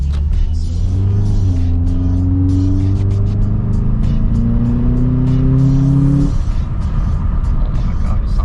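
Engine of a 2008-2012 Honda Accord 2.4L fitted with a cold air intake, heard from inside the car with the window down, rising through the revs in a steady climbing drone, then easing off as a voice talks over it.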